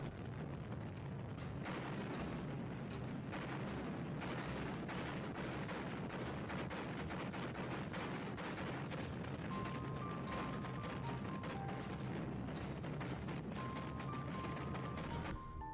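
An artillery barrage sounds as a rapid, irregular series of heavy booming shots, some overlapping, rolling on continuously at a distance with a low rumble underneath and no voices.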